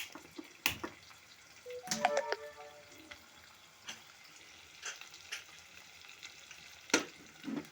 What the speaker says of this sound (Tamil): திரும்ப அது நல்லா பொன்னிறமாக வதங்கிருச்சு